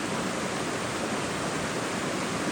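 A fast-flowing stream and waterfall on the Nusatsum river rush with a loud, steady, broadband roar that fills the whole stretch without a break, heard close and alone.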